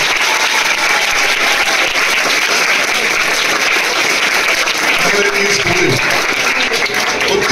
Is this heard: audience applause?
yes